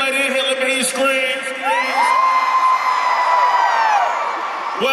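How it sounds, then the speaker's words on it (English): Women in a hip-hop concert crowd scream and whoop loudly and continuously, a sustained roar with high cheering cries rising and falling. "All the ladies, if you feel like you're the sexy lady in here, let me hear you scream"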